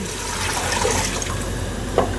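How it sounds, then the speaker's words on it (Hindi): Water is poured into a pan of frying daal and meat for a haleem-style daal gosht, giving a steady close liquid rush with a brief splash near the end. "अच्छे से भून लेने के बाद इसमें अब हम 4 कप पानी डाल देंगे।"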